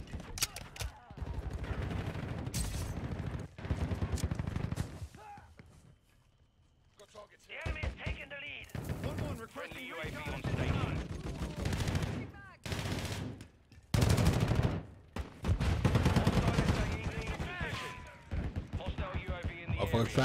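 Gunfire from a multiplayer shooter video game comes in repeated rapid bursts and single loud shots, broken by short quiet gaps, with other game sounds mixed in.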